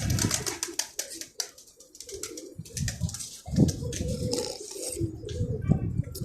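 Pigeons flying out in strong wind give soft coos amid gusty rushing air and occasional wing flutters, heard outdoors without clear speech.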